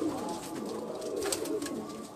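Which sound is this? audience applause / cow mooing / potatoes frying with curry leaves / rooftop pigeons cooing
rooftop pigeons cooing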